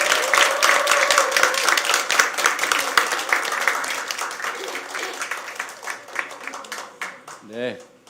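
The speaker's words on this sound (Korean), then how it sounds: "우리 박수로 환영해 주십시오." Church congregation clapping to welcome a married couple of deacons to the front, dense applause gradually thinning and fading near the end, with a voice rising briefly at the close.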